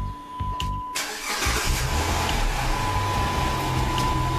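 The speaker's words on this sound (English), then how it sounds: "See, the car just started." A 2009 Dodge Charger starts by remote start, with a short crank burst followed by the engine catching and settling into a steady, close idle hum.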